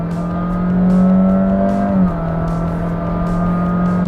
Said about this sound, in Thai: นี่ครับอัตราเร่งครับ เดี๋ยวผมจะลองเหยียบให้ดูนะครับ